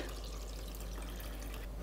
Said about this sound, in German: Ich fülle die erste Tasse randvoll.